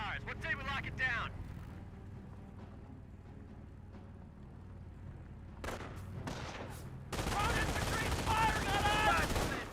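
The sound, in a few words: MG42 machine gun fire in Company of Heroes video game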